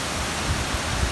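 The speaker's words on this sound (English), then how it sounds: "we've got the noise of the river," River noise at Castleford, a steady broad rushing wash of flowing water heard up close with no talk over it.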